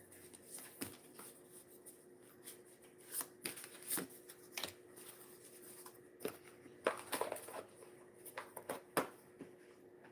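Oracle-style code cards being drawn from a deck and handled, with soft riffling shuffles and scattered papery slaps and taps, fairly close and quiet with no talking.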